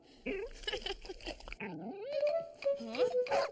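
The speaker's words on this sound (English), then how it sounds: "This little pup just wants to play." A cartoon sled dog puppy whimpers and yips in short, high, wavering whines, close and clear, alongside animated character voices.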